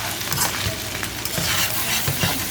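Cabbage broken up and frying in oil sizzles steadily in a pan for duck legs and dumplings, with repeated scraping and stirring knocks over the continuous hiss.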